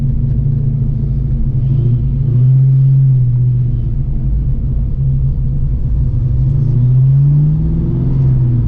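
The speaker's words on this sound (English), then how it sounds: "power steering pump's a little noisy." A loud, steady engine rumble fills the cabin of a Fox-body Ford Mustang, with a low droning whine from a noisy power steering pump that rises and falls slightly as the car rolls along.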